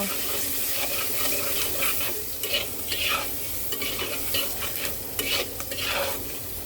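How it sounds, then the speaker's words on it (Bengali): Masala for a koi fish curry sizzling in a pan while being stirred, a continuous bright frying hiss broken by repeated scraping strokes of the spoon, close and fairly loud. "এবার কয়েক মিনিট এটাকে ভেজে নেব মশলাটা কষানোর জন্য"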